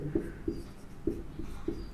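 Writing an answer on a board during a class 10 maths lesson, a series of faint, regularly spaced tapping strokes of chalk or marker, quiet and close, with no talk.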